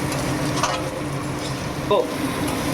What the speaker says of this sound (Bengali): মশলাটা কিন্তু ভালো করে কষতে হবে।